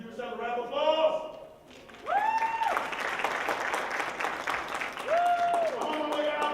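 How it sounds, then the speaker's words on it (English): A workshop audience claps and cheers together in a sustained burst, with a speaker's voice and brief vocal calls rising over the crowd noise. "Give yourself a round of applause"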